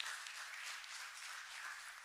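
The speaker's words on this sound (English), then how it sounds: "can we have a round of applause?" Applause from an audience at a book launch event, a steady, dense wash of clapping that holds evenly for about two seconds, moderately loud and without talk over it.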